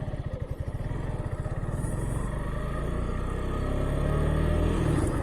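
A motorcycle engine runs close by with a pulsing, throbbing idle that smooths into a steady, rising rumble as the revs climb during rev-matched gear shifts.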